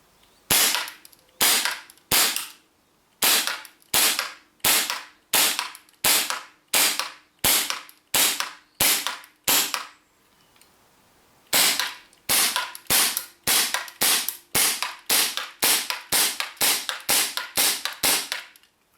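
An Armorer Works NE1001 gas airsoft pistol, a Springfield Armory V10 Ultra Compact replica, fires BBs in a long run of sharp, loud cracks. A steady string is followed by a short pause and then a faster string, with no talking.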